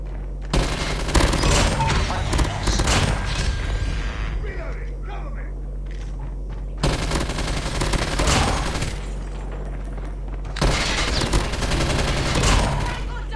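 Rapid bursts of video game gunfire crackle loudly in long volleys, pausing briefly between them, with dense layered shots throughout.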